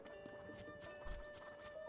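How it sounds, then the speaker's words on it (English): Horses clip-clopping at a stable in the video game Zelda Tears of the Kingdom, a few soft hoof thuds over a sustained musical tone, heard alone without talk. "These horses are quite the charmers, eh?"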